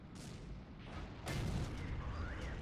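An IS tank cannon fires in World of Tanks, a sudden booming shot with a rumbling tail, preceded by faint engine and battle noise.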